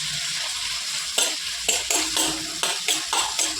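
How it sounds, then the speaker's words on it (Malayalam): Onions sauté with ginger garlic paste for a beef roast, a steady sizzle broken by several sharp scrapes and clinks of a spoon stirring against the pan, close and clear, with no talking. "എന്നിട്ട് ഇതിനെ ഒന്ന് വഴറ്റിയെടുക്കാവേ. കുറച്ച് ഇഞ്ചി വെളുത്തുള്ളി പേസ്റ്റും കൂടി ഇട്ട് കൊടുക്കുന്നുണ്ട്."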